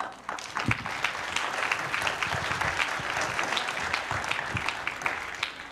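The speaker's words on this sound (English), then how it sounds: "Can we just give her another round of applause?" A church congregation at a youth Sunday service claps in warm, sustained applause, many hands patting unevenly and filling the room without a break.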